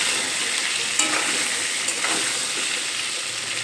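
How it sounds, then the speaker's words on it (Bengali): Pointed gourd being stirred in a hot pan with turmeric and salt, a steady loud sizzle with soft scraping and a couple of light spatula taps, heard up close without speech. "এবার একটু নেড়ে চেড়ে নেব। পটল লবণ আর হলুদের সঙ্গে ভালোভাবে মিশিয়ে নেব।"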